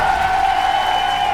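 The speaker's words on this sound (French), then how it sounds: "Mais applaudissez plus fort" Studio game-show audience cheering and applauding, a steady dense crowd roar held at even loudness throughout.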